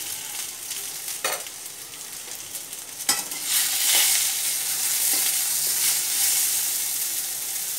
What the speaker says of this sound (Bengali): আমটা একটু ভাজা ভাজা হয়েছে